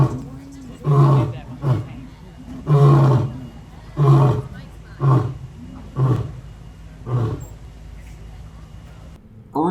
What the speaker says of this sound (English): If you visit Elephant Odyssey right when the zoo opens, you might hear a lion roar.